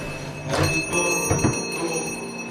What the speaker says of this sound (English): it's got a bell on the door